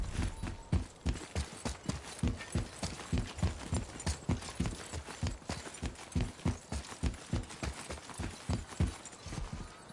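Horse hooves clip-clop in a steady, rhythmic trot in the God of War video game. The hoofbeats are even and close, with no talk over them.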